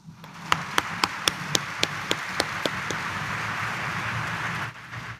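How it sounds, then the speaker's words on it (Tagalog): A church congregation claps during a mass at Quiapo Church, starting with a run of about ten sharp, evenly spaced claps that blend into a steady, dense wash of applause from a large crowd before it stops abruptly. "Ang gustong pagpalain ng Diyos, ang gustong basbasan ni Jesus sa Sareno, pumalakpak ng mas malakas."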